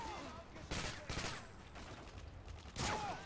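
Suppressed gunfire in the Modern Warfare 2 multiplayer shooter, a few muffled bursts of shots at low level spread across a few seconds amid general game noise.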